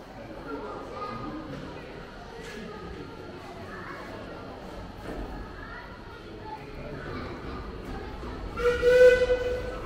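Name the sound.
steam train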